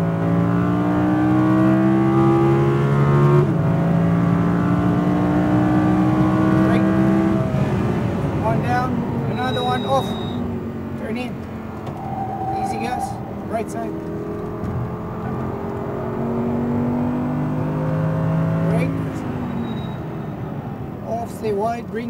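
An Audi R8 V10 RWD on a Speed Vegas track, its engine droning and rising in pitch as it accelerates, loud and close, while an instructor talks over it throughout.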